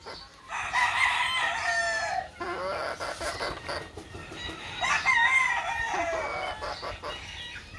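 Young hens and roosters cluck and crow close by, two bursts of strained, rising crowing separated by a short lull, with soft clucking and faint farmyard background between.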